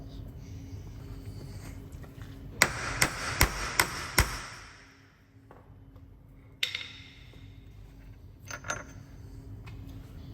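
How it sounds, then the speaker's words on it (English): Five sharp metallic hammer taps in quick succession knocking a drive shaft out of a Skoda Karoq front wheel hub, followed by a few scattered clanks, close and loud against a quiet workshop background. "you can give it a tap with an hammer just to knock it out the back"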